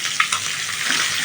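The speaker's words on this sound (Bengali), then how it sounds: "আমার মাছগুলো ভাজা হয়ে গেছে" Rohu fish frying in hot oil in a pan, giving a loud, steady, close sizzle with a few brief sharper spits near the start.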